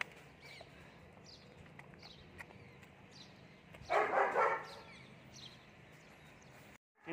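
A dog outdoors gives a short burst of barking near the middle, heard once at moderate distance over a quiet background.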